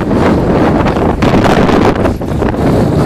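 Loud, gusty wind buffeting the microphone while skiing in Gogołów, Poland, a continuous roaring rush that swells and dips throughout.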